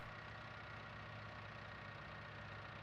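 A tractor engine idles in Farming Simulator 19 with a steady, even low drone and a faint knocking texture, constant and faint throughout with no talking.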